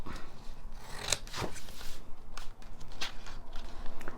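Scissors snip through paper while a figure is cut out of a book page, giving a few short crisp cuts and rustles close by with no talking.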